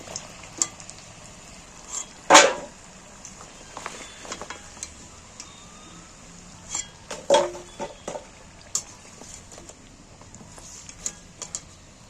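Khaja, the layered Puri festival sweet, frying in hot oil, with a low steady sizzle and intermittent clinks and scrapes of a utensil against the pan as pieces are lifted and drained.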